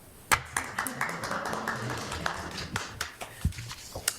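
Scattered applause breaks out at a school board meeting, a loose run of claps from a small group that rises quickly and thins out over a few seconds, with voices murmuring underneath.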